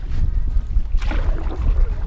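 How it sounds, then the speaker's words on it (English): Steady low rumbling wind buffeting the microphone on a canoe on Cedar Lake, Algonquin Park, with water and boat noise underneath, continuous and fairly loud throughout. "it's just a little too windy"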